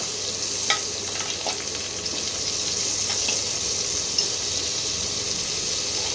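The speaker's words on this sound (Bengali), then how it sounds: "এই আলুগুলো একটু ভেজে নেব" Diced potatoes fry in hot oil in a wok, a steady close sizzle with a few sharper crackles and pops, no voices.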